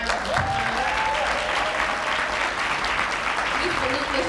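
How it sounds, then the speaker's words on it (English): A room full of people at a marketing presentation applauds a company founder, sustained loud dense clapping with faint voices and cheers mixed through the crowd. "Let's give him a round of applause."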